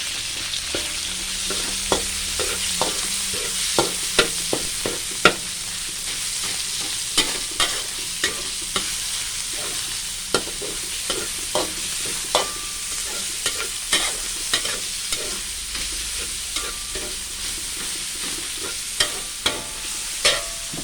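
Minced pork and vegetables stir-frying in a sizzling pan, with frequent rhythmic scrapes and taps of a spatula over a constant hiss.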